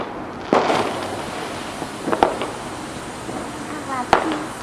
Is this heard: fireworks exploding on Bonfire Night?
yes